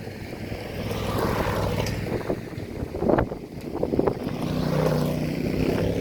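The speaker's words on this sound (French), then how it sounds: "je vais laisser passer une voiture, une moto" A car and a motorbike pass by on a road, with a broad whooshing rise and fall of traffic noise and a swell of engine sound midway, heard alone amid wind.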